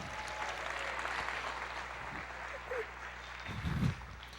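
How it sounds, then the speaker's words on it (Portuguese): A church congregation claps in praise of the Lord, a broad, steady wash of applause at moderate distance that swells toward the end, with some voices mixed in. "Você pode aplaudir o Senhor, dizer: eu creio, eu creio."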